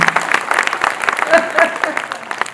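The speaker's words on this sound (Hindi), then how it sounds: "ताली ऐसे बजाओगे तो पाकिस्तान को औकात समझ में नहीं आएगी" An audience at a Hindi poetry performance claps in a loud, uneven patter of close, distinct hand claps, mixed with someone speaking over it.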